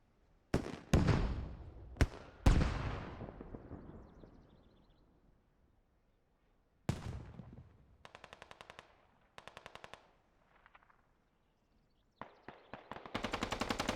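Gunfire in an esports shooter match: a quick cluster of loud sharp shots with ringing decay, then pauses broken by rapid rattling bursts of automatic fire and scattered single shots.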